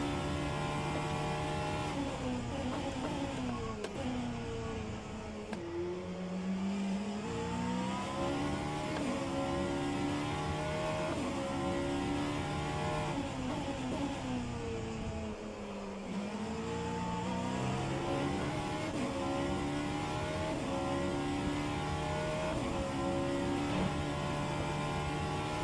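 Vanwall Hypercar engine lapping Sebring in the rFactor 2 racing game, a continuous loud high-pitched drone rising and falling through the gears, dropping sharply on braking twice before climbing again.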